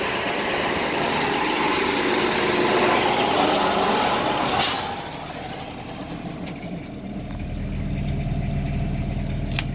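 A 7,500 generator set on a 2003 Tiffin Phaeton 40TGH motorhome runs with a steady low engine drone, followed by a short sharp click and a continued hum.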